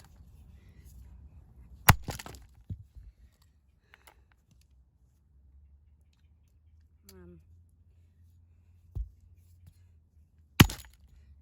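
Rusty, cheap RC helicopter stuck in dirt being smashed with an axe on a smashing board, giving a few sharp, loud cracking impacts spaced several seconds apart over a quiet outdoor background, with a brief voice in between.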